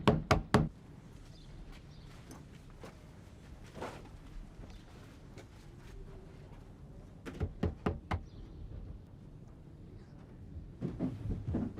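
Knocking on a front door comes in several sharp bursts of three or four raps, clear and close, separated by quieter stretches of background room noise.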